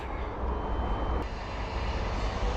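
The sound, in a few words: drone taking off and flying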